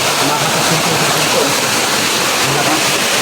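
Natural spring water pours over rocks in a steady, loud, close rush like a small waterfall, a constant broadband hiss with no pauses.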